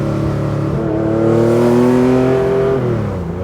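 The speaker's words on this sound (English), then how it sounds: "with this exhaust on the overrun, it sounds like an E-Type Jag to me" Theon Design Porsche 911 Targa restomod with a lightweight carbon body and a 407 bhp six-cylinder engine, exhaust bellowing on the overrun, a loud close steady engine note that falls slightly in pitch, with no talk.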